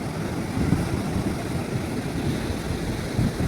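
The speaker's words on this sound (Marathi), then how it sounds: "हे बघू शकता तुम्ही या लाटा का मजा घे" Ocean waves at Juhu Beach, Mumbai, wash in a continuous rushing roar, with occasional swells of surf rising and falling, and no voices over it.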